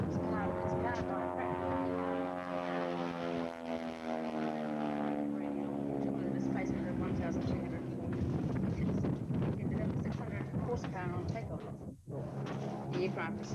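A vintage propeller warbird first flown in 1937 drones overhead at the Warbirds Over Wanaka airshow, its engine pitch sliding steadily as it passes. A commentator talks over it throughout, with wind buffeting the microphone.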